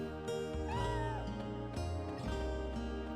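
Cat meowing in the video game Chrono Cross, a short voiced meow over the game's steady background music, clear and close without any talk.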